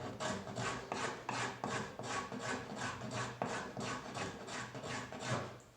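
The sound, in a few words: rasp filing wood of a small bench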